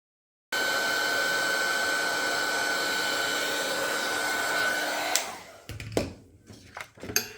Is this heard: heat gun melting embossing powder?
yes